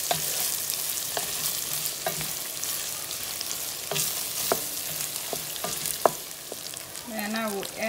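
Carrots and onions sizzle steadily in a pan, a continuous frying hiss broken by occasional light clicks and scrapes of stirring, close and fairly loud with no talking.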